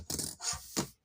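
Small scissors snipping through paper, three quick, close crisp cuts in just over a second, quiet and without talk.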